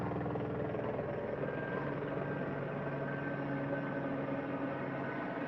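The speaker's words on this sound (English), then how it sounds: "those choppers have infrared cameras so they can catch body heat" Helicopters circling overhead during a search give a steady, droning rotor and engine hum that stays constant and fairly loud throughout, with no voices.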